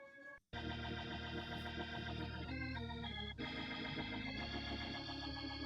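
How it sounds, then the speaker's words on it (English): An organ plays sustained chords with a thin tone, starting after a brief gap and holding steady with a few chord changes, fairly loud and alone. "this is the organ"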